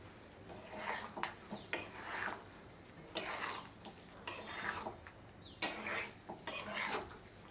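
Chicken fry being stirred in a pan after a pinch of salt goes in, with repeated scraping and clinking strokes of a utensil against the metal, in bursts with short pauses between them.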